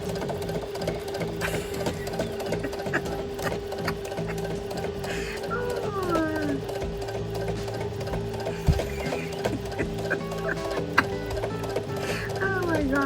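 A sewing machine stitches in a steady, fast mechanical chatter that runs continuously and close throughout, with a few brief clicks and knocks along the way.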